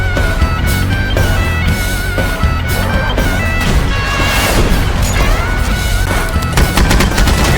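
Dense, continuous gunfire from the film Planet Terror (Grindhouse), loud bursts rattling without pause over a busy soundtrack, with sharp crashes and booms mixed in throughout.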